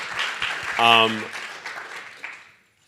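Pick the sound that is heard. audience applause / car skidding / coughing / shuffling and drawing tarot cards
audience applause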